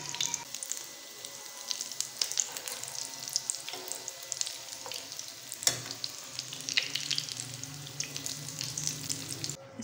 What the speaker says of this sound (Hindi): इस तरह से हमारे दूसरे कबाब भी फ्राई हो गए हैं